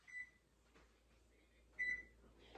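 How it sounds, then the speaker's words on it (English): Kitchen oven being switched on and set to 375 for a meatloaf, a few short electronic beeps from the control panel, quiet and close, in an otherwise still room. "So let me get my oven started."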